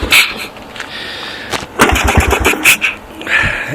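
A 1984 Honda TRX200 ATV being pull-started: several quick recoil-cord yanks bring short, loud engine sputters and catches that fade between tries, close by.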